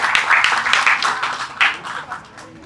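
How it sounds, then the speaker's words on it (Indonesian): Audience applause at a ceremony for a facilitator competency exam, a steady burst of clapping from a crowd lasting a few seconds with uneven swells. "Tepuk tangan dong untuk Pak Ervin"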